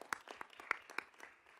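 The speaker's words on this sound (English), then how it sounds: "give them one more round of applause" Faint, sparse applause at a school board of education meeting, a few scattered claps from a small group, quiet and brief.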